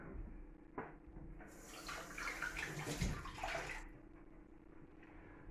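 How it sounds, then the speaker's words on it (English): Running tap water rinses out a container while making burnt orange bitters, a steady splashing stream that swells and gurgles in the middle before easing back, close by with no talk. "let's rinse that out"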